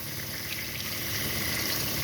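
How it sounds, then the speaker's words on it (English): Hot water runs steadily from a tap inside a Swift Sprite Quattro FB caravan, with a constant close rushing hiss and a noisy water pump adding to the flow. "we're getting the hot water coming through."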